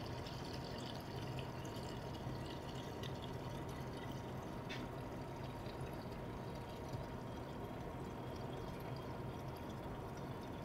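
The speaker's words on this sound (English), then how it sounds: "I'm going to carefully pour off the alcohol inside." Isopropyl alcohol poured off from a 3D printer resin tank into a container, a steady continuous liquid pour with light trickling, moderately quiet and alone without talk.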